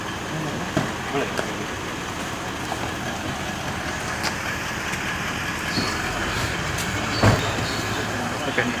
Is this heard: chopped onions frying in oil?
no